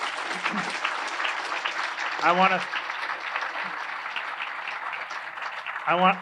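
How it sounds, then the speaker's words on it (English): An audience at a Jewish law symposium applauds the panel, sustained steady clapping from a seated crowd, with a voice speaking briefly over it twice. "I want to thank our panel very, very much. Give them a round of applause"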